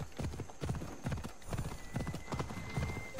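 Horse hooves clip-clop in a steady, rhythmic gallop from Assassin's Creed Odyssey, close and fairly loud, with occasional whinnies and game ambience behind them.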